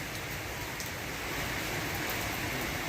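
Heavy rain pours down in a steady, dense hiss of countless drops with no breaks, loud and even, with no voices heard.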